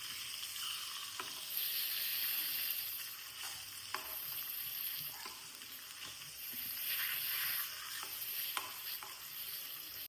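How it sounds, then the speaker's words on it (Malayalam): Seer fish pieces frying in hot oil for a thick fish curry give a steady broadband sizzle with occasional sharp crackles and pops throughout, close and continuous with no talking. "ഒന്ന് തിളച്ച് വരുമ്പോഴത്തേക്ക് നമുക്ക് മീൻ വറക്കാനിടാം കേട്ടോ"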